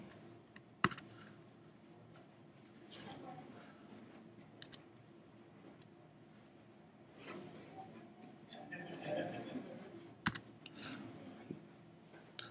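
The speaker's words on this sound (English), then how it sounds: "Hard typing when you can't see what you're typing." Keys on a computer keyboard clatter faintly at a conference session, scattered taps and a few sharper clicks over a quiet room hum.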